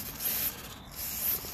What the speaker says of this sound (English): got some brake cleaner on those.